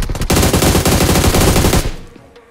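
Rapid bursts of M4 assault rifle fire in PUBG Mobile (BGMI) gameplay, loud and sustained automatic shooting for nearly two seconds before cutting off and fading.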